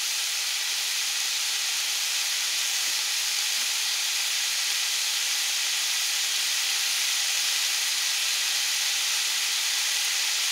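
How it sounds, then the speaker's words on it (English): Smoked sausage sautéing over medium heat in a pan gives a steady, close, even hiss-like sizzle that holds without a break the whole way through, with no talking. "we sauteing the smoked sausage"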